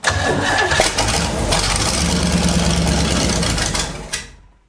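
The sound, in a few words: vintage 70s big block jet boat engine cranking and starting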